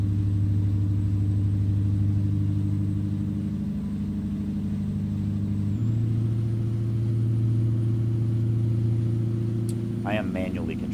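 Steady low drone of a heavy truck engine in American Truck Simulator, driven with manual gear changes; the pitch shifts down midway as a gear is changed, then a voice speaks near the end over the continuing rumble.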